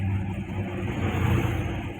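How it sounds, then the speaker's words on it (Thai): Trucks climbing a mountain pass at night, a steady low engine rumble close by with a faint rising rev. "โอ้รถบรรทุกขึ้นเขามาหลายขั้นอยู่ครับนี่"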